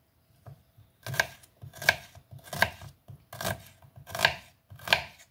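A knife chops onion Korean-style on a cutting board, with seven distinct crisp thunks in a steady rhythm about once every two-thirds of a second, close and clear with no talk.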